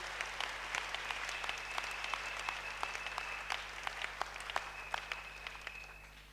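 A church congregation at a Wednesday evening service applauding, a steady patter of many hands clapping at moderate distance with a faint sustained tone underneath.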